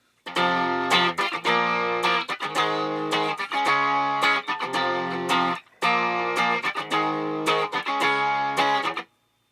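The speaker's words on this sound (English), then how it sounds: "If I play that riff with everything falling on the strong downbeat" A distorted electric guitar chugs through a repetitive riff with choppy, evenly spaced chords, pausing briefly midway before repeating, loud and alone.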